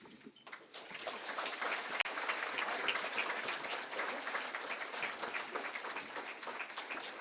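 A seated audience gives sustained applause for a lifetime achievement award at a leadership awards event, a steady wash of many hands clapping at moderate distance, swelling after a quiet start and holding evenly throughout.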